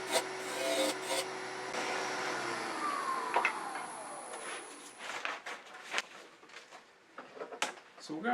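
Wood being turned on a lathe with a spindle roughing gouge for a pepper mill, a continuous rasping, rubbing cut with shifting tone, followed by scattered scraping and knocking sounds; a voice speaks faintly at times.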